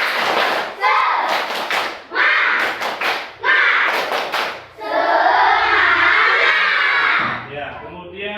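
A group of schoolchildren performs a tepuk semangat rhythmic clapping chant in unison, with bursts of sharp claps and shouted chanting in a steady pattern, close and loud, ending in a sustained group shout.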